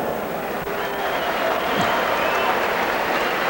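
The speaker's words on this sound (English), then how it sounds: "And a round of applause for Alex Stewart from Tampa, Florida." An arena crowd at the 1991 Michael Moorer versus Alex Stewart boxing bout applauds and cheers, producing a steady, broad roar of clapping and crowd noise with a voice faintly present.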